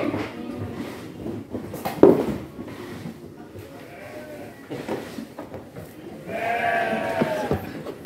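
Goats bleating at a goat and sheep farm in Klaten, Indonesia, with a louder drawn-out bleat near the end over steady background noise while people talk throughout.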